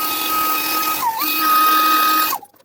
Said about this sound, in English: I'm going to use the hairdryer to just blast this dry